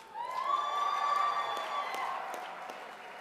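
A crowd of students cheers and whoops at a Zionist Organization of America gala dinner in a banquet hall, one shout rising and trailing off as light clapping and cheering continue underneath, heard at a moderate distance.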